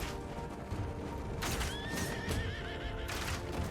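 Horses neigh in a video game, several loud whinnies over a steady rumble of hooves and battle noise, close and continuous.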